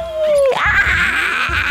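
A puppy in the video game Doronko Wanko gives a short, loud whimper that starts as a falling whine and then breaks into a brief yelping cry, close and alone.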